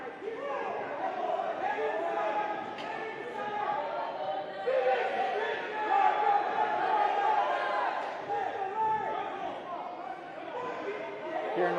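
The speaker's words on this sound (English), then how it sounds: "Hearing a lot of cheering from the sideline." A crowd on the sideline of a high school wrestling dual meet cheers and shouts continuously, a dense wash of overlapping voices holding steady at moderate loudness throughout.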